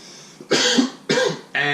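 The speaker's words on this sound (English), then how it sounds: "You got cough? Cough it out." Several harsh coughs in quick succession, loud and close, with throat clearing between bursts and no talk over them.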